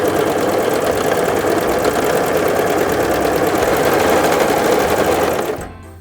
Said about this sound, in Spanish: girando la rueda un par de veces y luego presionando el pedal para comenzar a coser